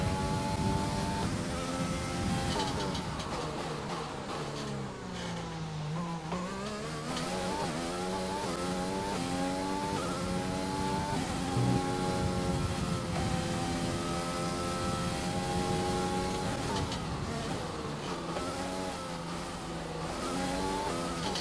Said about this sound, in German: So, da ist ein Auto unterwegs.